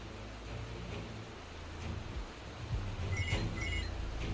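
Steady rain pours in Wuthering Waves, a continuous hiss of falling water that swells slightly louder toward the end, with a faint rumble underneath and no voices.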